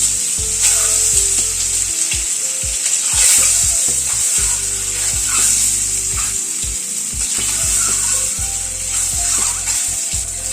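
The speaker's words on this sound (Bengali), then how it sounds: "ডিমগুলো প্রথমে একটু ভেজে নিচ্ছি।" Eggs sizzle and spit in hot white oil in a wok, a steady bright crackle with occasional clinks of a utensil stirring, close and continuous.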